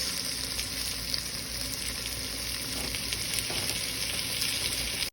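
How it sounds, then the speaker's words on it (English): Short ribs browning in a hot pan give off a loud, steady sizzle and crackle that runs unbroken, with a sharp bump right at the close. "So let's brown these first."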